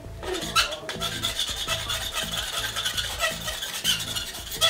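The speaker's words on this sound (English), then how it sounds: "as you scrape the blade across the tubing" A blade rasps in short, steady strokes across the plastic tubing of an LED hoop, close up, scratchy and continuous, with no voices.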